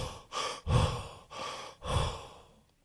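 Panting from an out-of-breath tiger in a story, heard as four heavy, breathy huffs at a steady rhythm, close and fairly loud. It fades to silence at the end.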